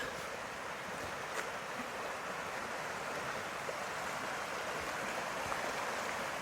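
Water flows steadily below a backpacking viewpoint, a constant broad rushing wash that holds even for several seconds with no voices.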